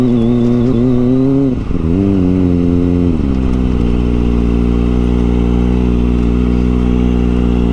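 A loud motorcycle engine idles steadily with a brief rev near the start, a continuous close-up motor rumble with no talking, on Tinawagan Hills, Baao, Camarines Sur.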